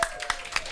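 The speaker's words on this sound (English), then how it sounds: "round of applause for Harper Schurz running the camera" Sparse, scattered hand claps from a small audience at a softball team captains' show, a few distinct claps spaced apart, fairly quiet.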